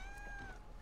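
A cat gives a single short meow under a low background hum, faint and close, lasting under a second.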